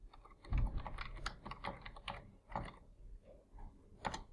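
Keys clack on a computer keyboard as a CLI command is typed, a close run of quick taps ending with a distinct final keystroke.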